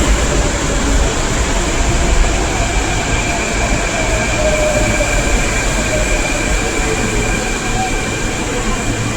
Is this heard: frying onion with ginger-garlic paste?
no